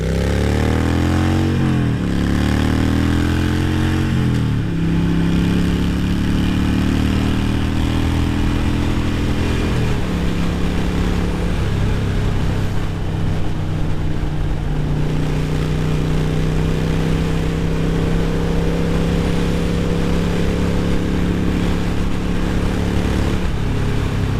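A Harley-Davidson Sportster motorcycle rides along with a loud, continuous engine drone, its pitch rising through several gear changes as it accelerates, with steady wind noise over the top.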